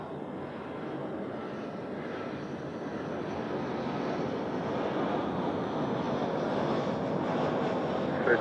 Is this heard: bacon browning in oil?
no